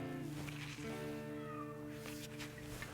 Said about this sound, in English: That's our cat.